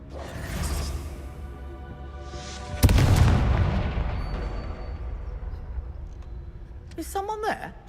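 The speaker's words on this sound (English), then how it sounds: "It's like a massive explosion." A massive explosion in the Hogwarts Legacy game booms out loud and close, a sudden broadband blast rumbling and slowly fading over several seconds, with a brief voice at the end.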